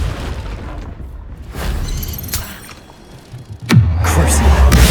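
A Confringo blasting spell erupts in Hogwarts Legacy with heavy booming explosions, a loud blast early on and a sharp crack near the end that gives way to a sustained roaring rumble, amid spell-casting combat.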